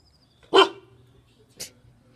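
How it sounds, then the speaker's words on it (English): A dog barks once sharply, then gives a second shorter bark about a second later, close and fairly loud against a quiet room. "This is a video showing my dog."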